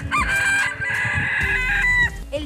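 A rooster crows loudly and close by at a snowy farm hotel in Bom Jardim da Serra, Santa Catarina, one long sustained call filling most of the moment.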